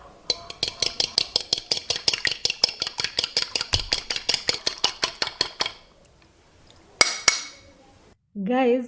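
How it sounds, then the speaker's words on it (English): Fork beating freshly cracked eggs in a bowl for homemade two-ingredient pasta dough, a fast, steady run of close, bright clinks against the bowl that stops abruptly, followed by a couple of isolated knocks and a short burst of voice. "Now I'm going to break them into my bowl and mix them"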